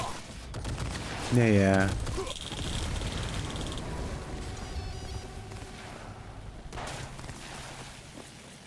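Gunfire erupts in a Cyberpunk 2077 firefight: scattered shots and bursts ring out, some close and some more distant, over tonal game sounds while someone briefly speaks.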